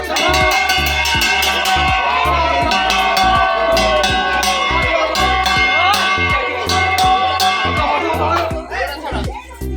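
Crowd at the Ratha Yatra chariot festival in Sarasada village, Bhadrak: a loud, busy mass of voices and chatter over a steady, rhythmic clang of bells or cymbals and pounding drums throughout.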